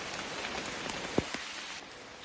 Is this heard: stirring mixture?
no